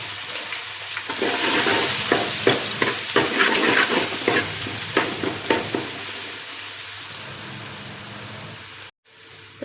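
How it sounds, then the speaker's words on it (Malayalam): Garlic-ginger paste and curry leaves fry for a Kerala-style pork dish, a steady loud sizzle with a series of stirring scrapes in the middle, then a brief cut near the end. "വെളുത്തുള്ളി ഇഞ്ചി കുറച്ച് മൂത്ത് അന്നത്തേക്ക് സവോളയും കൂടെ ഇട്ട് 1 പച്ചമുളകും ഇട്ട് ഇതിനത് നല്ലതായിട്ട് വഴറ്റിയെടുക്കണം."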